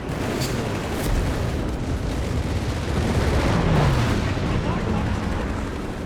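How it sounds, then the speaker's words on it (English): Guns firing in Company of Heroes 3, a dense mix of distant artillery thuds and gunfire pops rolling through a busy battle din, moderately quiet with a voice talking intermittently. "Both guns going at it."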